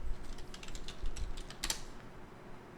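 A search term typed on a computer keyboard, a steady patter of soft key taps ending in a sharper, louder clack, close and with no voices.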